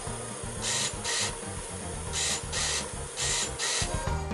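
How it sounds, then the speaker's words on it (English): A Sega Dreamcast console loading the Sonic Shuffle game gives off a fairly quiet noisy whir with repeated hissing bursts in pairs, its rhythm steady and mechanical, without speech. "you get to hear that explosive and simultaneously nostalgic"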